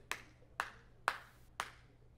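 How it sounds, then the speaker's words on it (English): Four sharp hand claps, evenly spaced about half a second apart, used to sync sound and picture alongside a digital audio recorder; close, crisp and isolated with a low steady hum beneath and no talking. "I look for the clap at the beginning"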